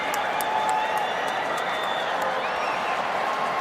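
Stadium crowd at a women's football match roars as Spain score, a broad, steady swell of cheering and clapping with scattered whistles, filling the whole moment.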